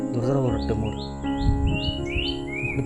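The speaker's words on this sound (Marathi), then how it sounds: "इथे ना मोर ओरडतोय." A peacock calls in the distance in a rainy forest near a village river, with a series of rising calls repeating after a voice speaks briefly at the start.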